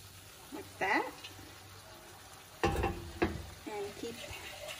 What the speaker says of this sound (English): Keep stirring and blend it all up.